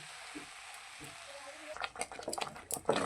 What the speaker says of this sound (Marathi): 2 कप हरभऱ्याची डाळ घेतलेली, समप्रमाणात गूळ किंवा साखर घ्यायची आणि हे मिश्रण आता आपण व्यवस्थित हलवून घ्यायचं